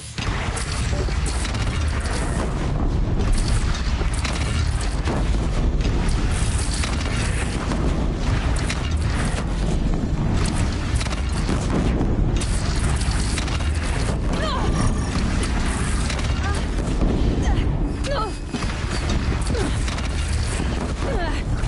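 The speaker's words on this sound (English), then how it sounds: "They only have one cannon!" Heavy booming and crashing from a Horizon Zero Dawn battle against a bandit clan's single cannon, with sustained dense rumble, repeated blasts and mechanical clatter running the whole time at high loudness.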